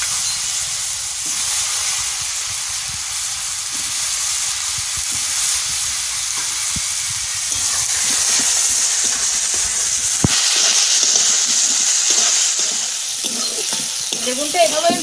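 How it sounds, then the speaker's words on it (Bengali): Eggplant pieces fry in mustard oil in a wok, giving a continuous loud sizzle with frequent stirring scrapes and clatter, heard up close with no talk. "বেগুনটা এভাবে আমি ভালো করে ভেজে নেব।"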